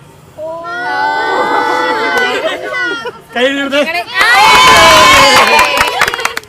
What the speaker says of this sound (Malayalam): സത്യത്തിൽ ഇപ്പോൾ ആർക്കാ കൈയടിച്ചത്?